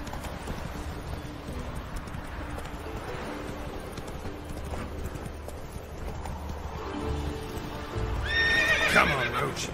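Roach the horse gallops in The Witcher 3, with steady clip-clop hoofbeats under wind and ambient game sound, ending in a loud close neigh and whinny.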